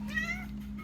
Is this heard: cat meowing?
yes